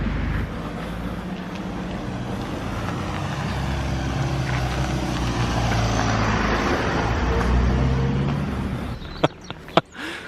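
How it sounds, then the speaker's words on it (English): A truck drives along a narrow road, giving a steady, close rumble of engine and tyre noise that swells slightly before a few sharp clicks near the end. "you can see the size of that truck compared to the size of the road."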